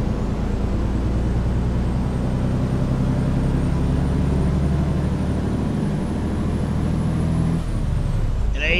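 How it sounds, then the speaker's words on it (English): Detroit diesel engine of a roughly 600-horsepower truck in American Truck Simulator, a steady loud drone with a faint whine above it, then a hiss and brief clatter near the end. "Truck's running a Detroit diesel."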